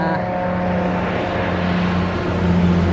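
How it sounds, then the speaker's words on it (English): A truck drives past on a nearby road beside a garden deck on a hot July day, a loud steady rumbling roar with a low engine drone that holds for the whole stretch, no voices. "I just wanted to wait until that truck went by."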